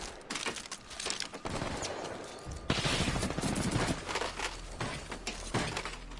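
Gunfire from a video game weapon comes in dense, continuous volleys of shots and crackling impacts at moderate loudness, with no clear pauses.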